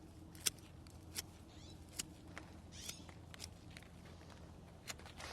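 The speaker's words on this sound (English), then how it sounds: "And then cut around the sides like this." Pruning shears snip around the sides of a lavender plant, giving a string of faint, crisp clicks and rustles at an uneven pace against a low background hum, with no voices.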